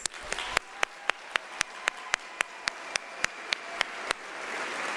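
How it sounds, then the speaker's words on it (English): Applause for graduates at a University of South Africa graduation ceremony, a broad steady crowd clapping over a large hall with one loud, rhythmic pair of hands standing out close by. "Can we give all our graduates and diplomates a round of applause?"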